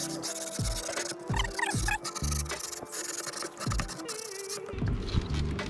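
A folded scrap of skateboard grip tape rubs along freshly cut deck edges in short, repeated scraping strokes with brief pauses between them, close and moderately loud, with no talk.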